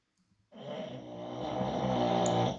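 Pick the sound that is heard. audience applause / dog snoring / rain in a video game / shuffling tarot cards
dog snoring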